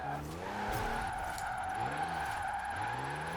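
Diesel-engined drift car in Forza Horizon 4, its engine droning steadily while tires squeal and skid through a continuous slide, loud and close with no talking.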